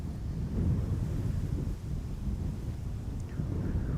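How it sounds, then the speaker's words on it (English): Steady wind gusting across the microphone at Amsterdam Schiphol Airport, a low continuous roar and rumble with no break, loud and close. "Wind is picking up, just like it did yesterday"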